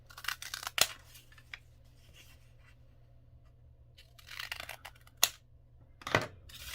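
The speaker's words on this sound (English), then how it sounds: "I'm going to cut along these dotted lines so that it makes a diamond" Scissors snip through folded paper along dotted lines to cut a diamond shape, giving a few sharp, close cuts with quiet handling in between and a faint steady hum underneath.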